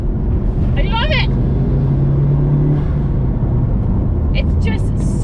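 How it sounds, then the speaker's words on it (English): A Mitsubishi Evo 6 engine hums with a steady, close rumble as the driver shifts up and down the gearbox, holding a fairly even drone throughout with only slight rises in pitch. "It's just so nice going up and down the gearbox in this car."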